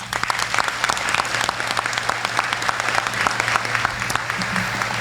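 At a service awards dinner, a room applauds Philip Cole Jr. with dense, continuous clapping, loud and even throughout, over a low steady hum.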